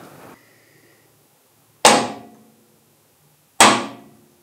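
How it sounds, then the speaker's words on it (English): A hammer drives a punch against the nut on the end of a Kubota L1-18 front loader hydraulic cylinder rod: a soft tap, then two sharp, ringing metallic strikes spaced well apart. "I'm just going to punch the nut on the end to tighten up and make it less likely to come off."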